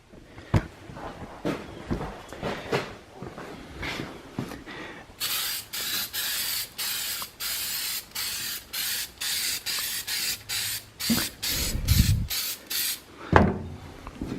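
Duplicolor clear rust fix hisses from an aerosol can in a rapid series of short, loud, evenly spaced bursts, after a few scattered knocks and handling clatter.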